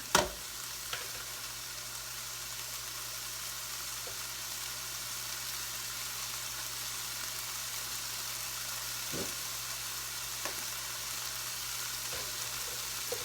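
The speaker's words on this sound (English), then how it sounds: "we are sizzling now" Steady sizzling and frying of turkey sausage from a hot pan continue throughout, with a few faint clicks and knocks nearby and no one speaking.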